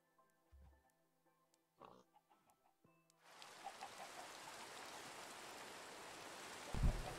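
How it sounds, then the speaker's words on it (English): Rain begins to fall in a Minecraft world, a faint steady hiss that rises suddenly after a few quiet seconds of scattered small sounds and then holds evenly to the end. "God damn it, it just had to start raining now, man."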